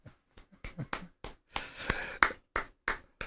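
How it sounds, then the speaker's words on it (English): Cupped palm claps struck in a loose flamenco bulerías rhythm, about a dozen sharp, close, dry slaps with short gaps, unaccompanied by talk. "Little bit of palm clap."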